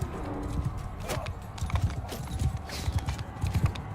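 Horse hooves galloping in the medieval combat video game Mount & Blade II Bannerlord, a quick rhythmic clip-clop pounding steadily throughout at moderate volume.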